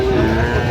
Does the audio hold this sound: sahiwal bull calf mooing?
yes